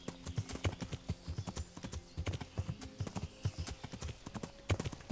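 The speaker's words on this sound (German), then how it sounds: "Jetzt reite ich einfach mal nach Westen." Horse hooves clip-clopping at a steady riding gait in the medieval video game Kingdom Come Deliverance, with a continuous, evenly paced rhythm that is close and moderately loud.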